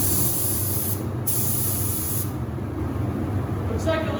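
An Anest Iwata spray gun fitted with an LVX air cap sprays at 29 PSI, giving a close, steady hiss of compressed air. The hiss carries on unbroken, with brief changes in tone as the trigger is worked.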